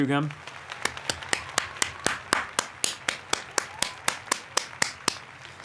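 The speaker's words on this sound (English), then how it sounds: "can we just applause for Shoe Gum" A single person's steady, evenly spaced claps in a room, about twenty sharp hand claps in a regular rhythm, close and fairly loud with no crowd.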